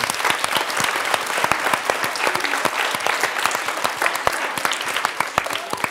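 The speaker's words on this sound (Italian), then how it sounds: "Salutiamo con un grande applauso la maestra Ivana Bontempi." An audience at a live Italian stage event breaks into dense, steady applause, many hands clapping together at an even level throughout, with no voices on top.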